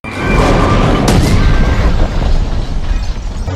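A loud, deep film explosion boom bursts in and rumbles on with heavy sustained noise, slowly fading but staying strong throughout.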